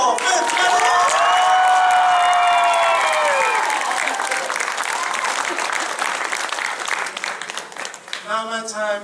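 A concert crowd applauds and cheers for the band, loud and sustained, with whoops and high shouts rising over the clapping before it thins out near the end.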